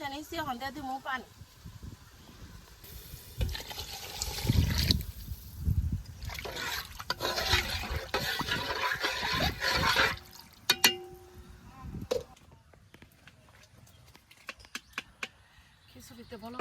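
Water rushes into a pot of beef and red lentil khichuri in several gushing bursts over the middle stretch, close and fairly loud, with quieter clatter before and after.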